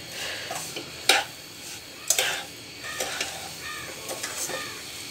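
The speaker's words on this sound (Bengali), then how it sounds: "চিনি দিয়ে অনবরত নাড়তে হবে, কারণ নাড়া থামানো যাবে না" Chhana and sugar being stirred in a pan on a medium flame, with a few sharp scraping strokes and soft sizzling between them.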